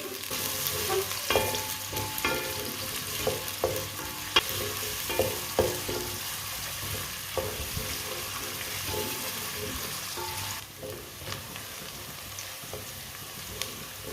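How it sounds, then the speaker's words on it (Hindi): A large chopped onion fries until lightly browned for Punjabi matar pulao, a dense crackling sizzle that runs throughout with frequent spoon scrapes and taps on the pot. "एक बड़ी कटा हुआ प्याज, प्याज को हल्का सा ब्राउन कर लेंगे।"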